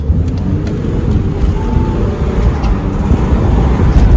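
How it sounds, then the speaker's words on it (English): 2018 Audi A5 Cabriolet accelerating with its gearbox in S dynamic sport mode, a loud, close engine and road roar mixed with wind noise, steady and unbroken from start to finish. "we push the gear lever down and we are S dynamic, so the gearbox is in S, so it's the sportiest setting you can have"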